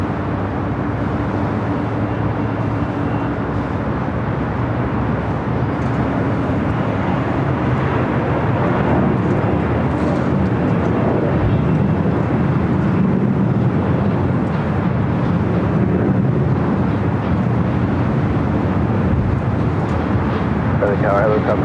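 An airliner arriving at Los Angeles LAX airport produces a continuous, heavy jet roar lasting over twenty seconds, loud and steady with a deep low rumble, as people speak on top of it.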